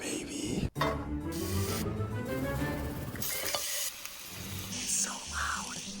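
Steak sizzling and spitting in a pan on a portable stove, a loud, steady frying hiss with scraping and stirring noises, a brief thud near the start and a voice faintly in the background.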